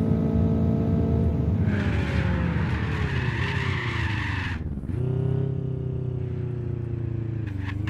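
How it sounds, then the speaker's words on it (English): A race car in a racing video game brakes hard, its tires skidding and squealing loudly as the engine note falls, then the engine revs back up alone without any talking. "we're gonna brake hard"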